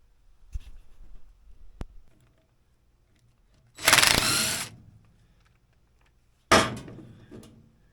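A ratchet wrench works bolts and flanges off the drive shaft of a vintage Sno Jet one-lung race snowmobile, giving two short bursts of close, rapid clicking separated by quiet pauses.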